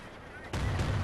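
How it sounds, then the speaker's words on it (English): Shotguns fire in a Company of Heroes match, a sharp burst that kicks in halfway through after a quiet lead-in, followed by a couple of further blasts. "double shotguns doing the damage."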